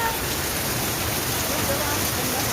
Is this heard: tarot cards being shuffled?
no